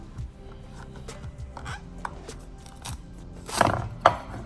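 A sharp knife working through the tough top of a spaghetti squash, with irregular close crunching and cracking cuts that build to two louder snaps as the top comes away.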